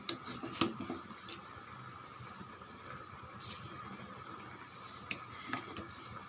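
Rice for biryani is poured into a pot of boiling water, with a few soft clattering bursts over a quiet, steady bubbling hiss.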